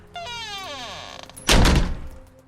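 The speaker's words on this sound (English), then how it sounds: "I heard the storm door open then slam shut." A storm door creaks open with a squeal, then bangs shut with a loud, heavy thud that rattles briefly before fading.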